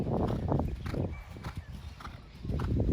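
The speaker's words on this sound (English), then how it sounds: "he's got a really active canter, and it's very balanced" Horse cantering during dressage schooling, hooves striking the arena in a steady three-beat rhythm, fairly close, with faint snorts and movement sounds between strides.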